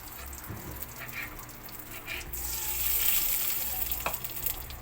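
Cooking oil sizzling in a frying pan, a steady crackling hiss that swells slightly midway, with a few faint clinks and no talk.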